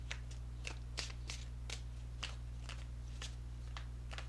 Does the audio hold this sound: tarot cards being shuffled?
yes